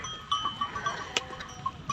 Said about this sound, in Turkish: Videoyu kesmek istemiyorum. Koyunun içinden çıkamıyorum.